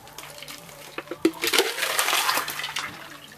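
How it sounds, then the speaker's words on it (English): Lemon drink poured from a shaker, a close splashing, gurgling stream of liquid that swells after a second and runs steadily to the end, with no talking. "It's gonna be a perfect pour."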